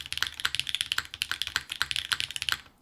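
Mechanical keyboard switches clatter in rapid, uneven bursts of sharp clicks and taps, close and crisp, fading out at the end.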